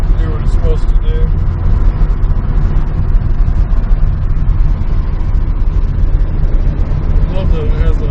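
A 1972 Volkswagen Super Beetle engine running after twenty years idle, a steady low rumbling idle with a throbbing pulse that holds close and loud throughout, with speech mixed in.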